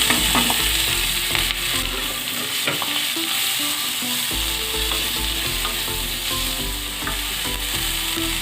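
Chopped onions frying in hot oil with ginger and green chillies, a steady loud sizzle with repeated scrapes and clinks of a spoon stirring the pan throughout, no voices.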